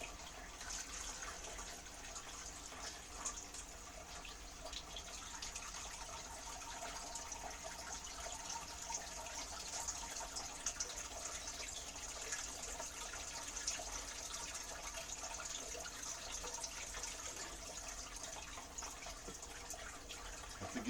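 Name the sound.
water poured into an aquarium filter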